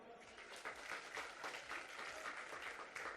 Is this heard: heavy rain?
no